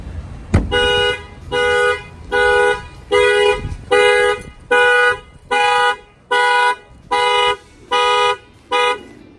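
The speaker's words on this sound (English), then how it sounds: "the shock sensor will pick up the impact and will fire off the alarm" A Toyota Tundra factory car alarm blares in regular repeating bursts of tone, about ten pulses with short gaps between, after a sharp thump on the glass sets off its shock sensor.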